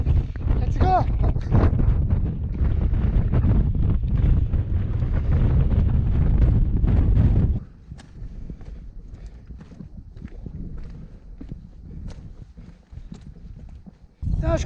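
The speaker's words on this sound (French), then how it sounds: "Il y a du vent de ouf." Loud, roaring mountain wind in the Pyrenees buffets the microphone for several seconds, then drops to lighter gusts and rustling.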